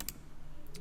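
A single sharp computer mouse click sounds near the start, then a second faint click shortly after, close and quiet against a steady low hum of room noise.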